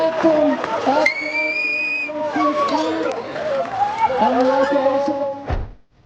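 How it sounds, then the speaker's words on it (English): A gym crowd erupts in loud, close cheering and excited shouts at a soldier's homecoming, with a sharp whistle cutting through the roar before the noise cuts off abruptly. "The whole gym erupted in cheers as she said yes."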